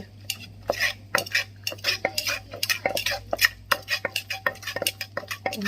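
A utensil stirs fish broth in a pot while larb is cooked, giving a busy run of clinking, scraping strokes against the pot, close and fairly loud, with no talk over it.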